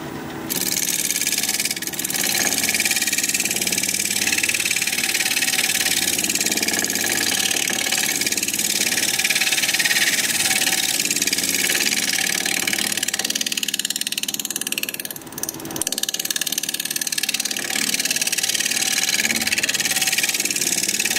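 A steel scraper works a wooden vase spinning on a lathe, a continuous loud rasping hiss over the motor's steady hum, with a brief dip near the end.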